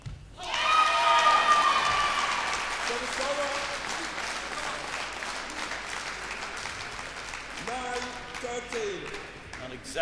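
Crowd applause at a women's singles badminton final at the Irish Open, a burst of clapping that swells then fades into scattered claps, with a commentator talking over it.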